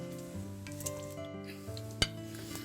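Coarsely chopped onion and minced garlic sizzle softly in schmaltz and oil in a pan, a faint steady hiss under a held musical tone, with one sharp utensil knock near the end.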